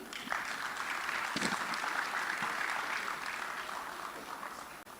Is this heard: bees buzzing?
no